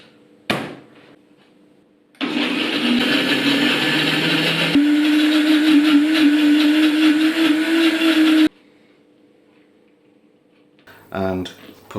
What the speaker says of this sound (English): stick it in your blender, give it a good old whiz till it's nice and smooth